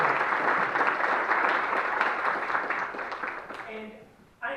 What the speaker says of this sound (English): we need to give them a round of applause as well and say thank you